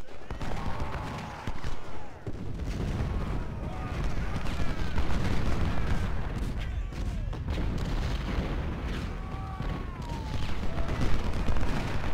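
Civil War guns and artillery from the Ultimate General Civil War Georgia Railroad battle fire in dense, rolling volleys. Booms and cracks overlap continuously, loud and unbroken throughout.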